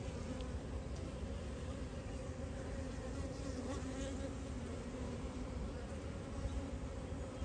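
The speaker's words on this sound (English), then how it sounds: "Well, now that is a frame full of bees." Dense, steady buzzing of many honeybees crowding a hive frame during a routine inspection, a continuous close drone with no pauses throughout.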